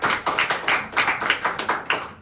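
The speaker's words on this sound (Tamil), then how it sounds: "கைத்தட்டி ஆண்டவர் மகிழ்ச்சி." A church congregation claps their hands together in a steady rhythm of about three claps per second, fairly loud and even, with no talk over it.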